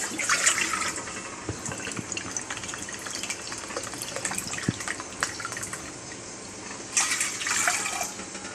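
Water runs and splashes steadily for several seconds, with a louder gush near the start and again toward the end.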